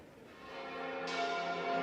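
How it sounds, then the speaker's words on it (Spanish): Church bells of Burgos Cathedral ring with a sustained, resonant metallic tone that swells louder partway through, with overlapping strikes and no voices. "El repique de campanas y el baile de dulzaineros anunciaba el 8º centenario de la catedral de Burgos."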